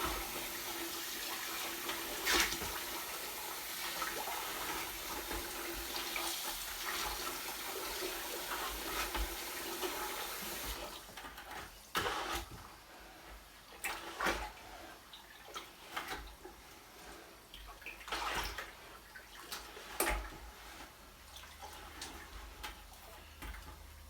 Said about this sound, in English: I can speed up that sugar syrup with water going in